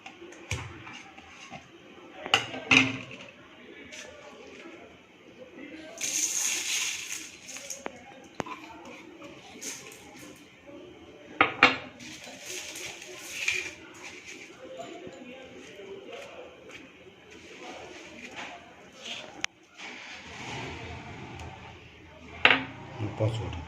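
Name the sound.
mixing chhena with sugar, milk and ghee in a bowl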